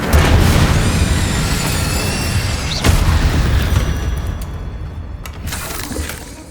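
An Incendio fire spell cast in Hogwarts Legacy gives a loud, sustained roaring whoosh with crackling bursts and a sharp flare near the middle, fading slightly toward the end.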